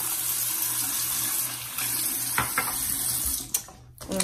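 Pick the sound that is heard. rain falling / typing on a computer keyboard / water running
water running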